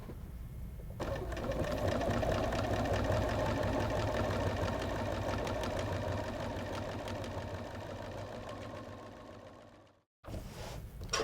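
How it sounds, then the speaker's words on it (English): A home sewing machine fitted with a walking foot stitches through a quilt, a rapid steady mechanical whir that runs for about nine seconds, then stops and briefly starts again. "I just line up my walking foot with the very edge of my quilt top to begin"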